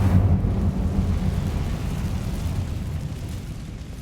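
Incendio fire spell cast in Hogwarts Legacy, a heavy rumbling whoosh of flame that bursts loud at the start, then rolls on as a deep roar that slowly fades.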